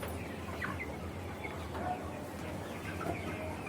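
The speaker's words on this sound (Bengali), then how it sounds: "আমাদের 1000 মুরগির সেট।" Chickens on a poultry farm with a thousand-bird shed, a continuous dense murmur of clucking and soft calls from many birds over a low steady hum, moderately distant with no clear individual voice standing out.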